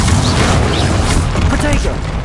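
The Bombarda explosion spell in Hogwarts Legacy goes off as a dense, loud, crashing blast with rumbling debris lasting about two seconds, with a voice mixed faintly into the clamor.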